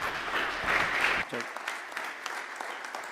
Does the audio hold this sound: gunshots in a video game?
no